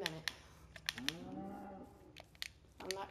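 A cow in Minecraft gives a clear, drawn-out moo, with a few short clicks and game noises around it. The moo is moderately close and heard on its own, without talking.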